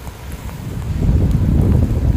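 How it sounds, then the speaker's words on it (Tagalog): Strong wind from Typhoon Enteng buffets the microphone in a steady, heavy roar that swells louder after the first second, with no voices. "Maraming lakas ng hangin."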